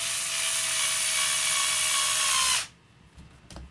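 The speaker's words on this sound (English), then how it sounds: "Got the electric drill." An electric drill whirs at a steady high pitch for about two and a half seconds while working on an RC car, then cuts off abruptly, leaving quiet room noise and a faint click.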